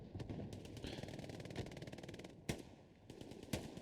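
STG assault rifle fire in the World War II shooter Hell Let Loose, rapid automatic bursts in long rattling strings with a few louder sharp cracks, heard at moderate distance in a low-level mix.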